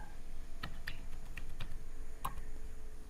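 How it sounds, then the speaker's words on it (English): Keystrokes on a computer keyboard entering a new password on a Windows 10 PC, a handful of separate clicks spaced irregularly over a steady low background hum, moderately close and fairly quiet. "Now type the new password you have just created"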